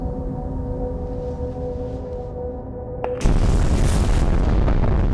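A deep rumbling boom from an earthquake fault line breaking three miles underground, erupting suddenly after a low steady drone and holding as a loud, dense roar to the end.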